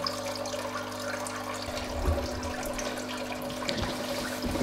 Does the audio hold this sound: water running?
yes